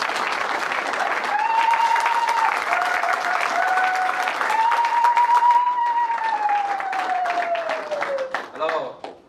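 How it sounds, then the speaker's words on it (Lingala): Audience at a conference-debate on the African calendar bursting into loud, sustained applause and cheering, steady dense clapping with vocal tones over it for about eight seconds before tapering off and fading near the end. "je demande à l'assistance d'acclamer très très fort"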